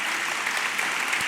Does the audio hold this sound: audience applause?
yes